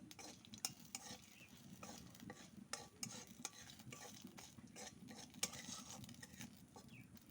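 Panch phoron, black mustard seeds and chilli sizzle in hot oil in a kadai, a soft steady frying hiss broken by small pops and a few sharp crackles, faint and close with no voices.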